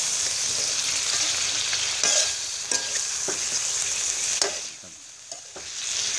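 Fish is stir-fried with light soy sauce in a pan for spicy fried catfish, giving a continuous loud sizzle broken by sharp scraping strokes of the spatula at irregular intervals.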